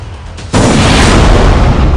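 An IED blast tests an anti-landmine vehicle: a sudden, very loud boom erupts after a half-second of quieter rumble, then a sustained roar of broadband noise follows without any voices.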